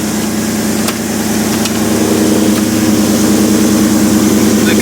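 A Coyote 5.0 V8 in a Ford Mustang fitted with MagnaFlow exhaust idles steadily just after starting, a loud, even low rumble with a faint click or two and no talking.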